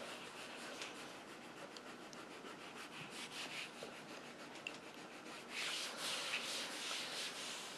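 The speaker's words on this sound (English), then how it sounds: "it just rubs right off, cleans right off like it's nothing" Alcohol marker ink being wiped off a non-porous surface with a cloth, a faint, steady rubbing scrub that grows slightly louder and brisker near the end, with no talking.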